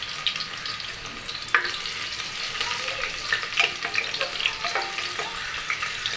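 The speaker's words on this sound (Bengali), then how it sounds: "তেলটা গরম হয়ে গেছে, 2টো তেজপাতা দিয়ে দিলাম, 1 টুকরো ডালচিনি দিয়ে দিলাম" Bay leaves and a piece of cinnamon dropped into hot oil, with a steady crackling sizzle and a few small pops and spoon clinks in the foreground, continuous and without talk.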